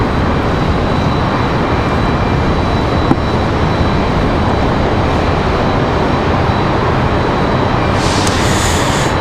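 Frontier airliner departing Raleigh-Durham for Orlando, a loud, sustained jet roar with a dense rumbling wash of noise that stays steady from start to finish, with a brief click partway through and no speech.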